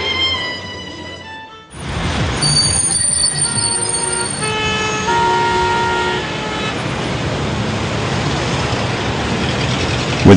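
A Moscow metro train runs through an underground station: a tonal whine cuts off, then loud rumbling with high squealing wheels and steady metallic tones fills the station for several seconds.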